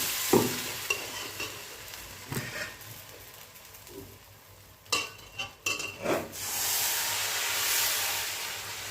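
Appam batter cooking in oil in an Indalium kadai: a few clinks and scrapes of a ladle come first, then a soft hiss that swells into a steady sizzle near the end, with no talking.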